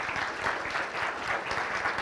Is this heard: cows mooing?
no